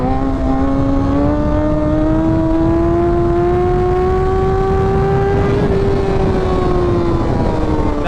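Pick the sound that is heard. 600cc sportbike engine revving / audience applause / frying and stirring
600cc sportbike engine revving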